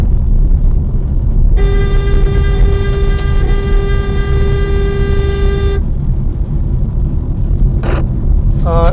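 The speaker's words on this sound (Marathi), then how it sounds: "असं छो जोरात हॉर्न वाजवायला लागतं" A loud, sustained vehicle horn blares for about four seconds over heavy road rumble while driving very close to another vehicle, followed by a couple of short honks.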